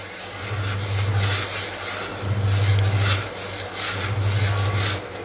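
Rice flour being stirred into boiling water in a pot to make modak dough, giving a steady scraping, rubbing rasp in repeated strokes with a low rumble beneath, close and fairly loud, with no talking.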